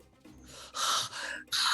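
A voice imitates hyperventilating during a Cypher System tabletop role-play session: a few quick, sharp, breathy gasps and exhales, close and fairly loud, growing stronger toward the end.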